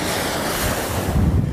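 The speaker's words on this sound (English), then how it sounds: "We don't have that ocean noise and waves, roaring and all that good stuff." Ocean waves roar in a loud, continuous rush of surf with heavy wind buffeting the microphone. No one speaks.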